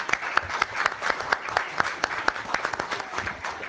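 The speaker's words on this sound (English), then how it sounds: "I want to dedicate one nice long clap to the coaches and to Zenon and Helena" People at a community meeting clap for the coaches in a quick, rhythmic run of sharp individual claps, moderately loud and fairly close, steady throughout without voices.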